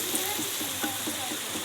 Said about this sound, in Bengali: আমি এই মশলাটা ভালো করে কষিয়ে নেব।